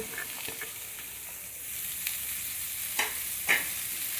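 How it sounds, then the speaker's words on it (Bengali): Carrots, beans, cauliflower and peas frying in a pan make a continuous soft sizzle, with a few sharp clicks and scrapes of stirring cutting through, no talking. "এবার এটাকে আমি 30 সেকেন্ড পর্যন্ত ভাজবো। আমি এক এক করে সব সবজিগুলোকে দিয়ে দেবো।"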